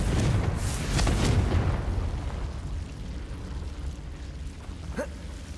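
A Confringo blasting spell explodes in Hogwarts Legacy, heard as a loud, rumbling burst with broadband crackle that decays into a sustained low roar, followed by a brief sharp pop near the end.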